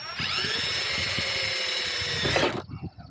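A power drill whines at a steady high pitch while boring a hole, loud and close, with clicks and knocks under it, then it winds down and stops just before the end.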